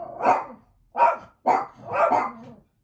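Four loud, close barks from dogs in quick succession, the last one drawn out, with brief silences between them.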